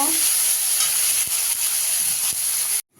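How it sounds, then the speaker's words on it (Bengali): Chopped onion fries in a pan with a steady, close sizzling hiss that runs for about three seconds before cutting off abruptly. "পেঁয়াজটা দিয়ে একটু লাল করে ভেজে নেব।"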